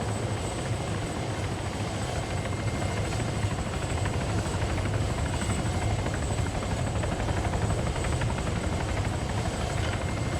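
Royal Canadian Air Force military helicopter in ARMA 3, a dense continuous rotor and turbine roar with steady rapid blade chop, loud and unchanging throughout, no voices.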